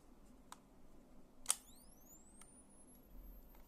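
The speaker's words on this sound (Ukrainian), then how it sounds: "Зараз включу спалах." An old Kodak camera's flash switched on and charging, with a sharp click followed by a rising high-pitched electronic whine that climbs steadily, faint over quiet room hiss.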